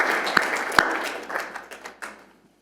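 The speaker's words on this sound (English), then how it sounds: "let's give Jessica and Tanya and myself a big round of applause for the conversation" Applause from a corporate showcase audience in Melbourne, a short, fairly faint smattering of claps with a couple of sharper hits that quickly tapers off.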